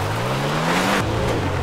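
Car engine in a GTA-style video game droning at steady revs, its pitch dipping midway as the car lurches, loud and continuous with no voices.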